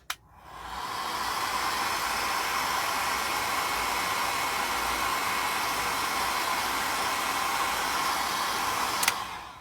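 Hair dryer drying paint, switched on with a click and blowing a steady loud whooshing hiss for several seconds, then cut off with a click near the end.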